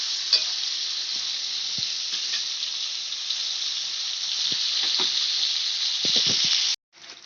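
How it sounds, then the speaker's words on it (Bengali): Cauliflower pieces frying in hot oil over a high flame: a loud, steady, hissing sizzle with occasional pops and spatula knocks, a flurry of clatter near the end, then it stops abruptly, with no talking. "ফুলকপিগুলোকে লাল করে ভেজে তুলে নিতে হবে।"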